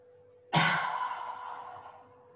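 One long, deep exhale during a breathing exercise at the end of a muscle-strengthening workout, starting abruptly and slowly fading over about two seconds, close and breathy with no talk.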